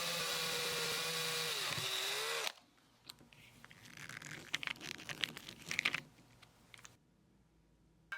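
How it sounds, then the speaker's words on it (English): Power drill boring a small screw hole in a flashlight head, a loud steady whine lasting about two and a half seconds, followed by quieter rustling and handling noises. "Drill a small hole for the screw."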